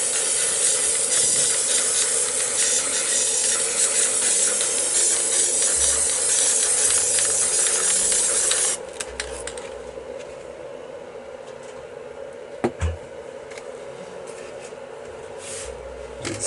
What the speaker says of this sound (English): spray black.